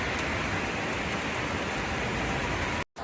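Torrential rain from Typhoon Nanmadol in Japan, a dense, loud, unbroken roar of downpour that cuts off abruptly near the end.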